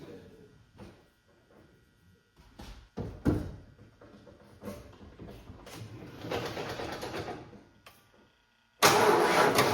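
An old-body-style Ford F150 truck cranks after its battery has been on a charger, with clicks and a few bursts of starter effort followed by a loud surge as it catches, close by, with brief speech mixed in.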